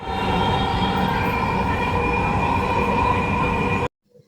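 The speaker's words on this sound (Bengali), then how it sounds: "এখন আমরা মেট্রো রেলে যাত্রা শুরু করলাম" Dhaka metro rail train running at speed, a loud, steady interior drone with a sustained electric whine and low rumble that cuts off abruptly, no voices.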